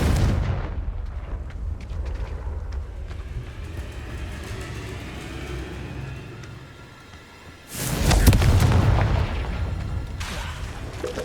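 Confringo fire spell blasts erupt in the Hogwarts Legacy video game, with loud booming bursts over a rumbling battle din and a sharp, heavy blast near the end.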